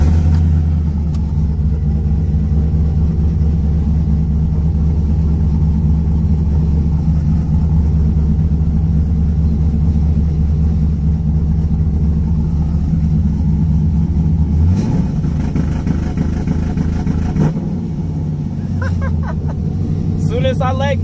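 A car fitted with a Lingenfelter two-step launch control box rumbles with a deep, loud engine sound that holds steady, then climbs in pitch near the end, while someone talks over it.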